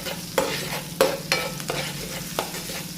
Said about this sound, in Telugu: ఇప్పుడు ఒకసారి కలుపుకోండి.